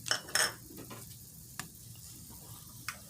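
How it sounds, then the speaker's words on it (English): A spoon stirs butter, salt and pepper in a pot over gentle heat, giving a couple of close scraping clinks at the start, then quiet sizzling with occasional faint taps on the metal. "and give that a stir."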